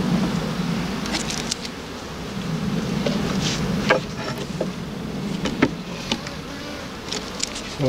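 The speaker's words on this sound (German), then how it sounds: "Das ist eine junge Biene, die gehört rein." Honey bees buzz around an open hive while a small Apidea mating nucleus is stocked and a honey super worked, a steady low hum with faint scattered clicks and rustles of handling throughout.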